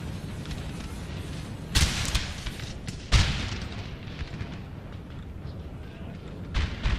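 Cannon and musket volleys from a Napoleonic-era battle in a strategy video game: two heavy booming blasts a second apart followed by rumbling musket crackle, with a further thump near the end, mid-distance and loud over a steady battlefield din.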